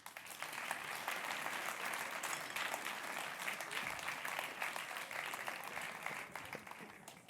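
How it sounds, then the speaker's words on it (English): An audience at a gala awards ceremony claps in a sustained, dense round of applause, steady and even throughout and heard from within the room, with no speech over it. "let's have a big round of applause"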